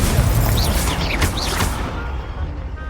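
A Confringo explosive spell goes off in a Hogwarts Legacy duel, a loud booming blast with crackling magical whooshes that fades within about two seconds.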